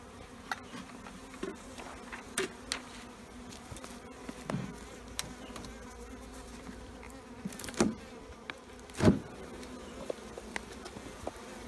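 Honeybees buzz steadily inside a tilted hive box during colony inspection, a close dense hum with scattered clicks and knocks from the boxes.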